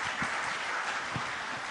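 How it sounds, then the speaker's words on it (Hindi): A crowd at a panel discussion bursts into applause, a brief, dense patter of clapping at steady volume. "उसके लिए आई थिंक एक जोरदार ताली तो बनती है"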